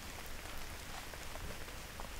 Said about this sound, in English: Hey, it's starting to rain, isn't it?